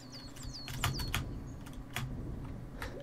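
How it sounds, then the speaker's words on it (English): Loud clicks and clacks of a computer keyboard being typed on, with heavy spacebar thumps among sharper key taps, close up, alongside faint chirping game sounds. "Sorry the spacebar is so loud on my keyboard."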